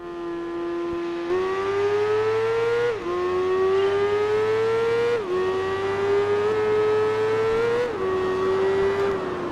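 Supersport 600 racing motorcycle engine from the game Tourist Trophy at the Deep Forest course, a loud steady high-pitched whine held at high revs, dipping briefly at each of several gear shifts before climbing again, with no talk.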